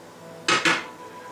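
A ladle knocks twice against soup bowls while French onion soup is served, two quick metallic clinks close together, close and fairly loud over a quiet kitchen background.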